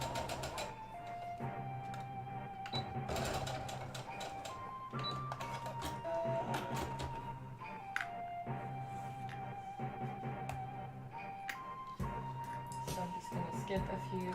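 A sewing machine stitches thin, shifty fabric for a sailor shirt, giving a steady mechanical whir with tapping clicks. Short pauses and changes in pitch follow as the stitching stops and starts.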